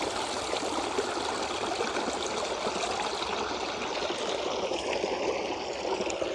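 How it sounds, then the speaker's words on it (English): Dirty stream water runs and trickles steadily as a water bottle is filled from the running stream, a constant close gurgling rush with no voices. "we need to fill this bottle with this dirty water"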